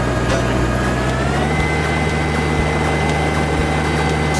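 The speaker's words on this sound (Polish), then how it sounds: "To teraz samolotem lecimy w pewne miejsce." A video-game airplane in flight gives a loud, continuous engine drone with a steady tonal hum and faint periodic ticks, unbroken for several seconds.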